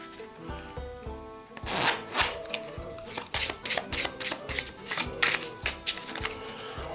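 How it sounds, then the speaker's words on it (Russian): KISS CARDS plastic poker cards being shuffled close up, with soft sliding rubs followed by a rapid series of crisp riffling bursts in a quick rhythm and no talking. "Ну, так вот потасуем чуть-чуть, применяя все наши шулерские приемчики."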